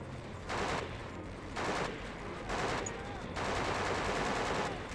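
Bursts of automatic gunfire from the PS2 game Conflict: Desert Storm 2, mid-mission firefight, coming in four sustained volleys about a second long with steady battle noise between them.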